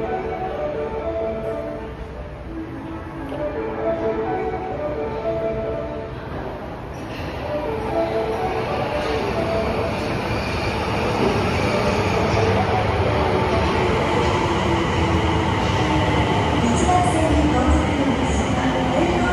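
An Osaka Metro Tanimachi Line subway train arrives at Tanimachi Yonchome station underground, its rumble swelling from a quieter platform hum into a loud, sustained roar of wheels and motors.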